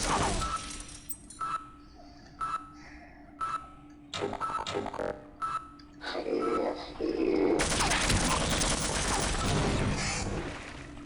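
Automated turret gunfire in Half-Life: short ticking bursts of shots in a stop-start rhythm, building into a sustained, louder barrage near the end, with a few grunts of pain.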